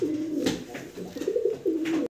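Pigeons at a pigeon farm give close, repeated low rolling coos in a steady sequence with short pauses.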